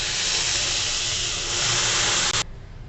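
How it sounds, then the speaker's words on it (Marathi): Water poured into a hot pan of roasted vermicelli with dried fruit sizzles as a loud, steady, broad hiss for over two seconds before cutting off to a quieter simmer. "आता आपण पाणी टाकून घेऊ अगोदर दोनच वाट्या टाकून घेऊ आपण"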